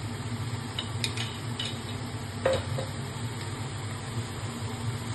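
Ghee sizzling softly in a pan while mocha (banana flower) is cooked, a low steady fry with a few faint clinks and utensil scrapes, no voices.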